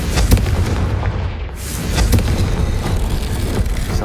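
The Confringo fire spell goes off in Hogwarts Legacy, giving booming, blast-like impacts with sharp transients, heard among ongoing game sound effects.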